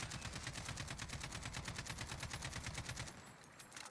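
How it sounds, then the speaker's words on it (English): Rapid full-auto bursts from the Modern Warfare AK-47 in the shooter game Warzone, a loud, steady stream of shots for about three seconds before cutting off, with no one talking. "this is the Modern Warfare AK-47"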